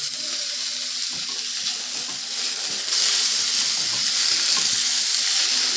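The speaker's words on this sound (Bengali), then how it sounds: "পেঁয়াজটাও কিন্তু দিয়ে দেব দিয়ে একটু ঘিয়েতে ভেজে নেব হালকা করে ভেজে নেব" Onion and green chilli frying in ghee for a restaurant-style chicken manchow soup, giving a dense, continuous hiss that grows a little louder midway, with faint stirring and no talk.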